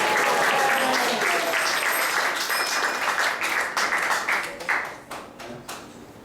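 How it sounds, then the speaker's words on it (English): An audience at a Sunday class in an ISKCON temple in Atlanta claps for the temple's devotees, full applause at first that gradually thins to scattered claps. "Let's give a round of applause for this wonderful service that they do."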